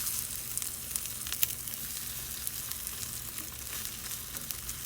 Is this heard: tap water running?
no